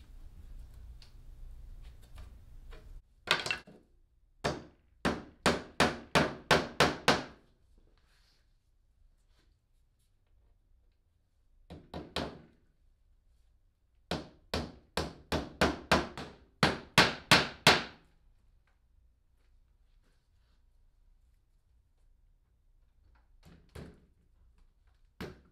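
Rapid bursts of sharp hammer blows drive nails into a center console, two long clusters of quick strikes with a few scattered single knocks in a quiet room.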